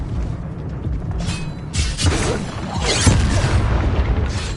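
Spell blasts and booming explosions from Hogwarts Legacy gameplay, several heavy bursts and rumbling impacts in close succession over dense game combat sound, with no talking.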